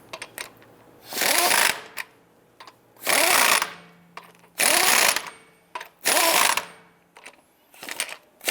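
A power tool snugs down lug nuts on a 2002-2008 Ram 1500 wheel in four loud whirring bursts about a second long, separated by short pauses, with a weaker fifth burst at the end.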